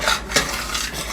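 Chocolate pudding being stirred in a pot on the stove, a spoon scraping and swishing steadily with a few louder strokes, close and moderately loud, no talking.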